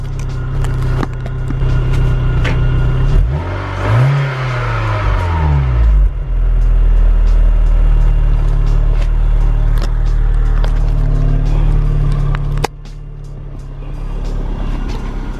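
A faulty Vauxhall Astra engine runs loud and close with a steady rough drone, surging briefly as it is revved, then settling into a heavy idle before dropping off abruptly near the end.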